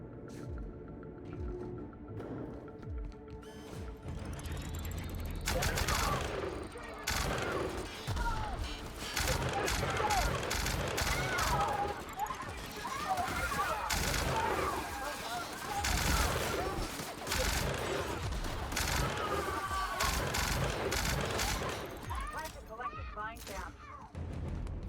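Gunfire from shooting someone in the video game The Outer Worlds: repeated bursts of shots and mechanical clatter, moderately loud, in clusters over most of the stretch with occasional talk.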